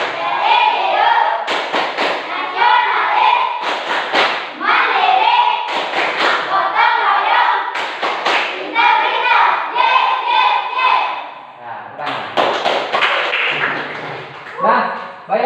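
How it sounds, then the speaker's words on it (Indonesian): A classroom of Indonesian schoolchildren performs a loud, close rhythmic patterned clap in sharp grouped bursts, with children's voices shouting and chanting along between and over the claps. "coba kita tepuk PPK dulu ya"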